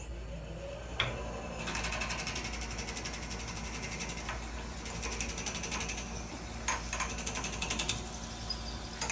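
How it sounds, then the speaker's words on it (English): A regular 5/16 inch drill bit chucked in a woodturning lathe bores through a wooden slab clock blank, giving a faint, steady mechanical whir with rapid ticking that grows busier after the first second and a half. "So I've got a 5/16 inch bit, just a regular drill bit chucked up in the lathe, and we can drill this straight through to the other side."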